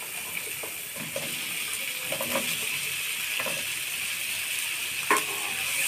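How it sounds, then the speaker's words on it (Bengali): Winter vegetables sizzle steadily in a pan for a fish curry, a close constant frying hiss with soft scraping taps as they are stirred. "সবজিগুলো দিয়ে ভালোভাবে নেড়ে চেড়ে দেব।"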